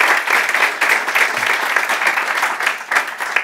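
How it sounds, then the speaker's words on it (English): Audience applause at a Rust programming meetup in Berlin fills the room with steady, dense clapping that holds at an even level throughout, with no talk over it. "Give another round of applause to Arvid."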